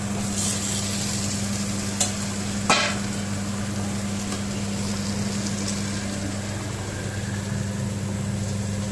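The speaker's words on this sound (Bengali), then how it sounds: "এখন এর ভিতরে আমি এই যে ভাজা আলুগুলো দিই" Fried potatoes stirred into a sizzling cooked-down spice masala, a steady low frying hiss with a couple of light spoon clinks against the pan under a constant hum.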